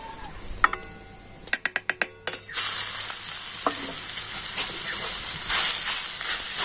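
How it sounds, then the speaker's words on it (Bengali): Grated bottle gourd hitting hot ghee, a series of sharp clinks and taps followed by a sudden, loud, sustained sizzle that keeps hissing steadily. "ঘি ভালো মতো গরম হয়ে গিয়েছে আর এখন আমি গ্রেট করে রাখা লাউটা দিয়ে দেবো"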